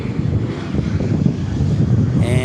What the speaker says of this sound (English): And a Delta A320 landing.